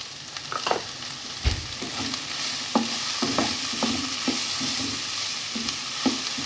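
Chicken pieces and mixed vegetables frying in a pan under steady close sizzling, with a spoon stirring and scraping in regular strokes throughout; no one speaks.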